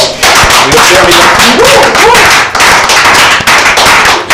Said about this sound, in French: Bravo, on applaudit pour les deux une fois, vraiment.